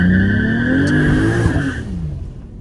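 A car with its trans brake released for a rolling launch revs hard, its engine tone climbing loudly and then falling away, with a brief tire squeal, close and with no talking.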